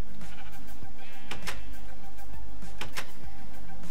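Minecraft sheep bleat a few times in a short game scene, the wavering calls sitting close and clear over soft background clicks, with no talking.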